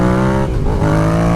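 Yamaha FZ-07 middleweight naked motorcycle engine revving hard under throttle during a wheelie, then briefly dipping as the throttle is chopped before droning on, loud and close with a steady harmonic whine.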